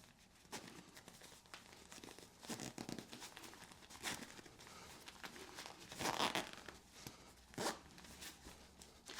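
A zipper on a fabric packing cube is pulled closed in short, faint rasping bursts, mixed with crinkling and rustling of stuffed material being pressed down.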